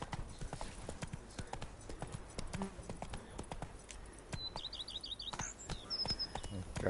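Horse hooves clip-clop steadily at close range as Roach is ridden in The Witcher 3, with a few bird chirps and game sounds layered over the plodding rhythm.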